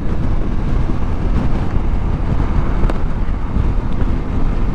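Loud, constant wind roar buffeting the microphone, a dense low rush with no pauses, while riding a Yamaha Tenere 700 World Rally motorcycle.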